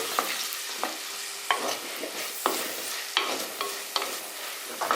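Chopped onions with a pinch of salt softening in a pan for a tuna fish roast, with a soft steady sizzle broken by repeated sharp scraping stirs every second or so, close and alone.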